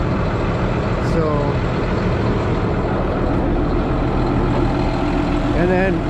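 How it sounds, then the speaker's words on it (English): John Deere 8670 tractor pulling a chisel plow through a field, a loud steady diesel engine drone with a deep low rumble, close and continuous without a break. "I'm using the 8670 here to chisel plow since TG210 is down."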